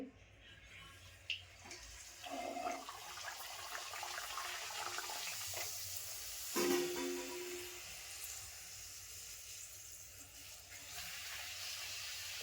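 Puri dropped into hot oil in a home kitchen, frying with a steady close sizzling hiss throughout, a brief louder bubbling burst partway through as the dough hits the oil.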